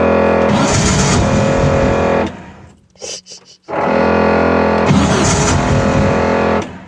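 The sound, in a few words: cold start of air-cooled 2276cc VW engine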